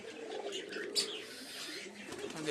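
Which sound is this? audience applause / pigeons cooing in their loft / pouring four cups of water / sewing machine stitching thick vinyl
pigeons cooing in their loft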